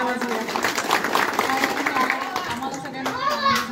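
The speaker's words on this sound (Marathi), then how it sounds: "म्हणून एकदा आपण जोरात साहेबांसाठी टाळ्या वाजवूया" Villagers at a revenue-week event clap for an official, a lively mix of hand claps and crowd noise with people talking over it.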